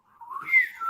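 A slide-whistle-like tone, under a second long, glides smoothly upward in pitch and then holds a high, slightly wavering note, heard alone and fairly loud.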